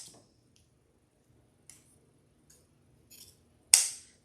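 Scissors cut ribbon for a spring deco mesh wreath on grapevine: a few faint clicks and rustles, then one loud, sharp snip near the end.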